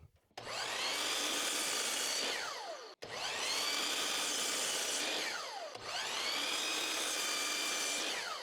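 A saw rips through a wooden board to cut 14-inch pieces for a small stool, heard as three loud, close, sustained cutting passes, each ending in a brief pause before the next begins.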